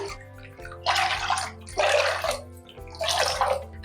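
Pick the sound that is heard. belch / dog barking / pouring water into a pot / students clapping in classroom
pouring water into a pot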